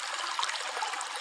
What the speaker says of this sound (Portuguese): Ei, está ouvindo barulho de água corrente?